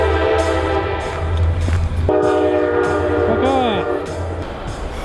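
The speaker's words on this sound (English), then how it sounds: "God damn it, the train again." A fast train rumbles past near a propane forge, giving a loud steady roar with a long horn blast partway through, while a man swears over it.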